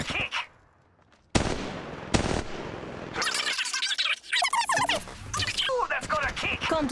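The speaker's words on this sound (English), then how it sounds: "Shots fired at me." Gunfire bursts in Apex Legends Mobile on a phone, sharp loud bursts after a quiet moment, then mixed with chatter, effects and voice callouts.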